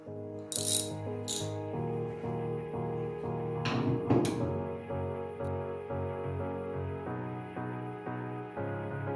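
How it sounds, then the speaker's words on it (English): Bolts being removed from the hood spring brackets on a 1947-1954 GM truck with a half-inch wrench, a few sharp metallic clanks and rattles up close over a steady hum. "So we're going to take out 2 bolts from the firewall."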